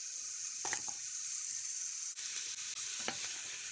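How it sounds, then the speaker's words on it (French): Onions and carrots for potato soup sizzle quietly in a pan as they brown, a faint steady hiss broken by a few soft spoon stirs and clinks. "pour faire rissoler les oignons et les carottes"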